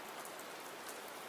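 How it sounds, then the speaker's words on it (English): Rain falls steadily on pavement, a soft continuous patter of drops, faint and even, with no voices. "Outside, the rain had picked up again"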